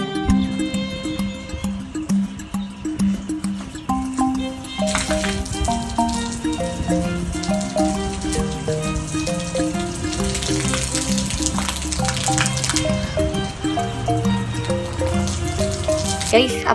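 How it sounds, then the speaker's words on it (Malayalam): Water poured from a container onto garden plants, a steady splashing and trickling that runs throughout with music playing in the background. "ഞാനിങ്ങനെ വെള്ളം ഒഴിച്ചു കൊടുക്കും."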